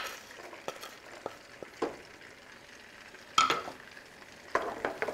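Garlic fries gently in a pan, a soft low sizzle punctuated by light clicks and a few sharper scrapes of a utensil, quiet and close with no talking.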